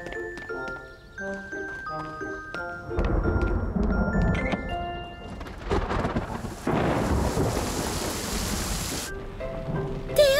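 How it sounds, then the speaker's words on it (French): Rain falls steadily with rumbling thunder in an animated children's scene, a dense wash of rain noise building over tinkling musical tones and sparkly chimes. "Théo, Didi, regardez, il pleut vraiment"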